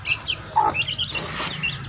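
A hen and her chicks peck at grain on a small farm, with soft clucking and rapid high peeps from the chicks carrying on steadily close by.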